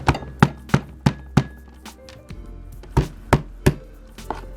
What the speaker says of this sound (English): I just want to mash up some of these ginger pieces so all the juices can come out of it even better